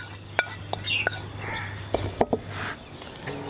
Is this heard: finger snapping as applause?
no